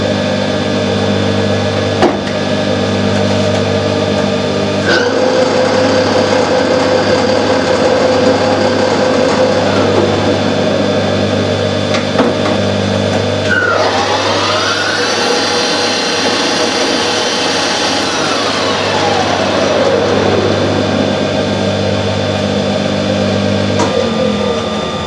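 Harrison lathe running with a top speed of 2000 RPM, a loud close mechanical whine with steady tonal hum and speed-change glides as it runs continuously, cutting noise layered over it.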